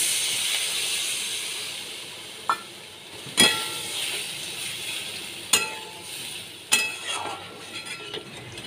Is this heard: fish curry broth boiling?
yes